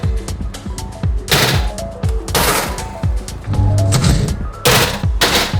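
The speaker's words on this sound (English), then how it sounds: "You give it a little slap, bang that pan against the oven rack." A metal cookie sheet of chocolate chip cookies is slapped against an oven rack over and over, sharp loud clanging bangs in quick bursts with a rattling ring between them, close by and with no talk.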